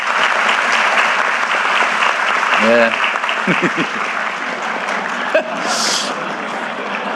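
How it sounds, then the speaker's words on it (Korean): Audience applause fills a town hall meeting in Jeju, steady and dense throughout, with a short spoken word and brief laughter breaking through midway. "더 잘하시라고 박수 한번 부탁드립니다."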